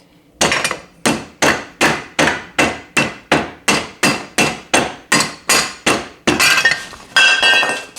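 A hammer strikes a metal wheel bearing in a quick, even series of about fifteen loud, ringing blows, with a rougher, harsher scrape near the end.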